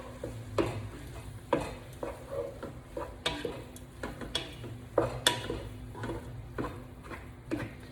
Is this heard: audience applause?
no